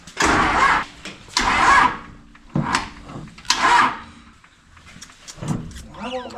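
An off-road rollback truck's starter cranks the engine in repeated loud bursts, each about a second long with short pauses between them, before it falls quieter near the end.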